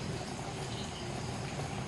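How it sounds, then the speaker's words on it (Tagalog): Crabs boiling in a pot, a faint, continuous bubbling churn of water that stays even throughout. "kumukulo na yung ating crabs"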